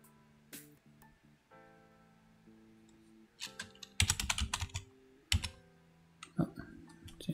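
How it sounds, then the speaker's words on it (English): Scattered computer keyboard typing, with bursts of quick clicking keystrokes against a quiet background and faint musical tones in the pauses. "I'm typing in the wrong place."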